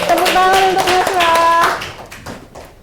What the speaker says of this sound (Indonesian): tepuk tangan untuk Nasra